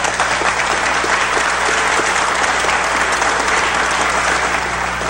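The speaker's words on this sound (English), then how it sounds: "I think in some cases it's okay to applaud a prayer." An audience applauds after a prayer, producing steady, dense, loud clapping that fills the whole stretch without a break and with no voices on top.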